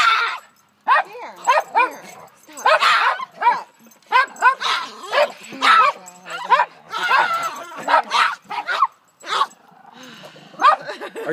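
A small farm dog barks, yips and whines in rapid high-pitched bursts, loud and close, a frantic run of squealing yelps with brief gaps between them.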